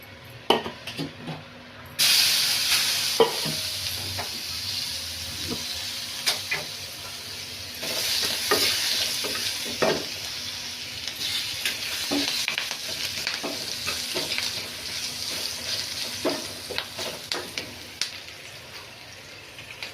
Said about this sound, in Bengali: আর সামান্য একটু পেঁয়াজ দিই